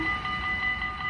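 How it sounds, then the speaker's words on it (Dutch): A train approaching from the left along the railway at Nieuwstadt produces a steady rumbling roar, with a sustained tonal hum from the passing rail cars and no voices. "Nou, we hebben de trein van links, hoor."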